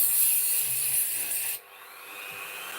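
Corroded nickel battery cells on a board being rubbed, giving a close raspy scraping hiss for about a second and a half before it stops abruptly and leaves only quieter background noise.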